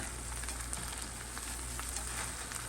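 Burritos toast in a frying pan with a soft, steady sizzle that holds evenly throughout, close by and moderately quiet, with no voices.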